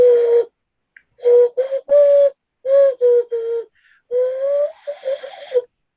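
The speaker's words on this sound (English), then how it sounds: "Like little mouth whistle." Mouth whistling in short bursts, a series of clear pitched notes with gaps between them, one longer rising note near the end, close and alone with no talking.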